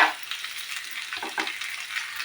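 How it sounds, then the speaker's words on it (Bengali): A spatula mashes bitter gourd and potato in a pan with a steady frying sizzle, plus soft scraping and stirring strokes close by. No one speaks. "খুন্তির সাহায্যে এইভাবে ম্যাশ করে দিতে হবে।"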